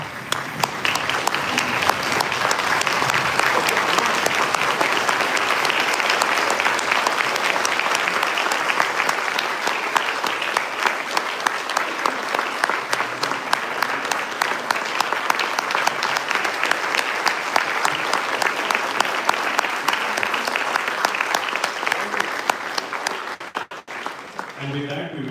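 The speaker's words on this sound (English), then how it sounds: "I would ask to keep your applause continuing, and if you are able to please stand and offer a standing ovation to Anjali Jayanty this evening." An audience applauds and gives a standing ovation after a Kuchipudi dance debut recital. The clapping is loud, dense and unbroken, lasting about twenty-four seconds before it fades out.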